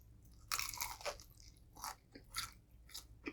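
Crunchy Popeyes fried chicken skin being bitten and chewed up close, a loud first crackling bite followed by several separate crisp crunches in an uneven chewing rhythm, with no talking.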